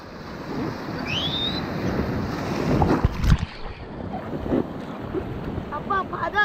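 A boat rides over sea waves off a beach in Gangneung, giving a steady rush of wind and churning water with a heavier thump midway, and faint voices beneath.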